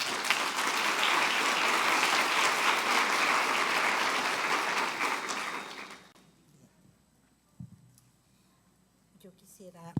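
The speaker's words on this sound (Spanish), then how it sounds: "les pido nuevamente un aplauso" Audience at a women's investment panel event applauding loudly and steadily for about six seconds, then stopping abruptly, after which a few soft thumps and a brief voice are heard.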